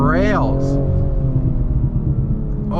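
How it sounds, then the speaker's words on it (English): Exhaust burble from a 2023 BMW M240i on the move, deep rumbling low tones with a rising rev sweep at the start and again at the end, loud and close under steady engine drone. "Oh, you can hear the burbles."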